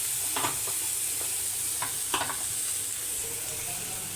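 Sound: stirring ground masala paste into frying potato curry

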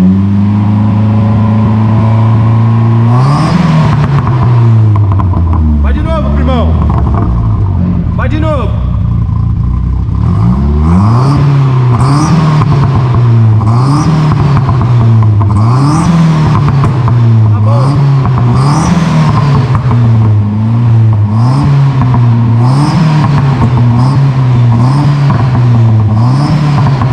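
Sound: turbocharged Ford Escort engine revving

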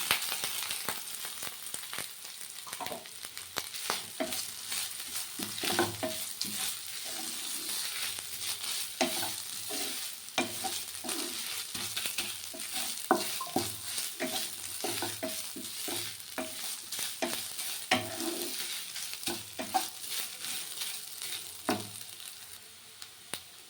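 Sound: coconut frying and stirred with garlic in pan

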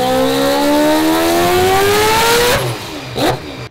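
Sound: 1000hp billet 4-rotor RX-7 engine revving

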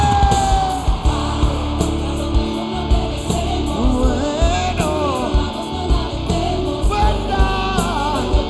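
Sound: festival crowd shouting Chile

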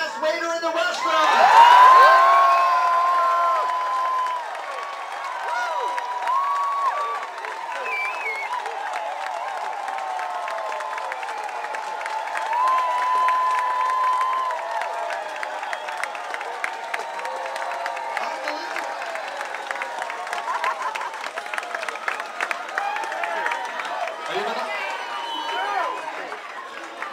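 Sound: cruise ship dining room crowd applauding and cheering for waiters

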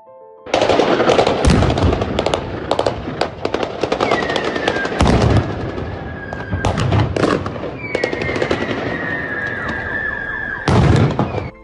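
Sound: machine gun fire during fighting in Enerhodar, Ukraine

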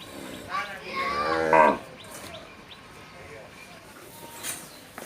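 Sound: cow mooing

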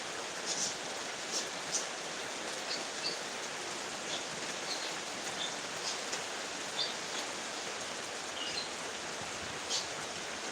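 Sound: heavy rain falling

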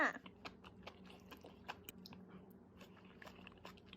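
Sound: eating and chewing seblak

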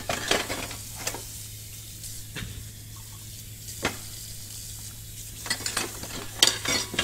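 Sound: washing dishes in horror video game Emily Wants To Play Too

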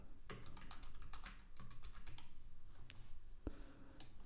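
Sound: typing on a computer keyboard

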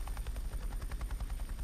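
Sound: helicopter flying in a video game

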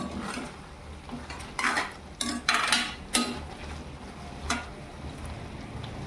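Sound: stirring raw papaya halwa mixture in a pan

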